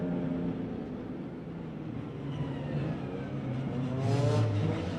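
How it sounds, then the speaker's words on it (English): A GT4 race car pulls away from the slow Macau hairpin during qualifying, its engine note rising as it accelerates down toward the next corner, heard at moderate distance over steady background rumble. "then will pull the pin coming down to black sands now and accelerates away"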